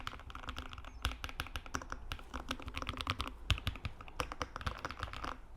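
Brisk typing on a compact 70% EPOMaker Split 70 mechanical keyboard, close by: irregular rapid clacks with a few louder keystrokes standing out, and no talking.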